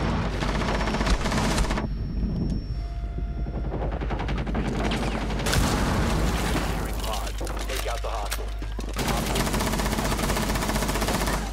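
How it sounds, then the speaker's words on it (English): Grenade blast and rapid automatic gunfire in a video game biohazard-container mission, dense bursts of shooting through most of the stretch with a heavy low rumble, mixed under game sounds. "That's a grenade."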